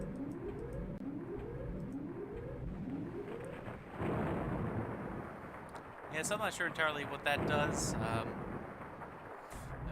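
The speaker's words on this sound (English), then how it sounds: "Of course, rain is bad for business." Rain and thunder in the SimTower computer game: a low rumbling wash with repeated rolling swells, then heavier noise as someone talks over it and later a brief burst of tonal game sounds.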